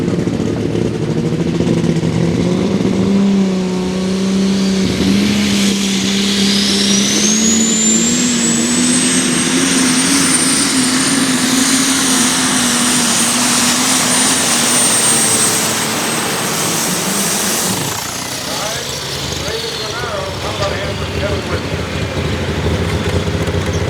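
An alcohol-burning New Holland super stock pulling tractor, a roughly 4,000-horsepower engine pushed past 5,000 RPM, roars loud and steady, its pitch climbing into a long sustained whine before easing off.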